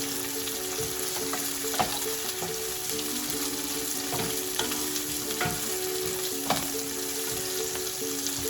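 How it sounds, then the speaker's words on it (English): Yellow lentils dry-roasting in a pan over a raised flame, giving a steady close sizzle and crackle with scattered scraping stir strokes and sharp utensil knocks throughout. "We have to roast it properly,"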